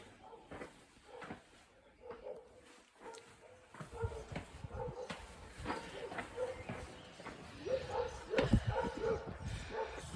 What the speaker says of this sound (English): There's a wee dog barking up there.